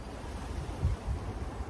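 Wind gusting through a back garden on a sunny, warm day, heard as a low, steady rumble with soft buffeting against the microphone and a couple of slightly stronger gusts.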